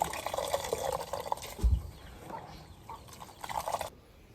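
Water slowly poured into a basin while preparing fish vakalolo, a soft liquid trickle and splash with a brief low thump midway, moderately quiet and steady with no voices.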